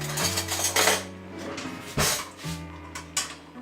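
A spoon stirs North African soup ingredients in a pot, scraping and clinking against metal in irregular bursts, with a louder knock near the middle.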